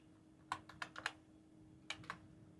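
Keys tapped on a computer keyboard while entering a captcha, a handful of sharp, close clicks in two small bursts over a faint steady hum, with no voices.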